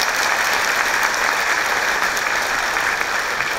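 Audience applause at a company achievement event, a broad steady roar of many hands clapping, sustained and evenly loud, with no speech over it.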